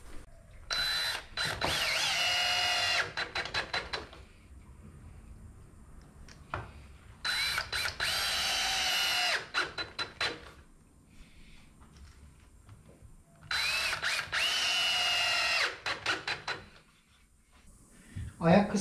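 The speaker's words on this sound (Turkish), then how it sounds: "Şimdi iç kısmından vidalayacağız." A power drill drives screws into wood while a pallet rocking chair is being built, in three loud whirring bursts separated by quieter pauses with faint handling noises.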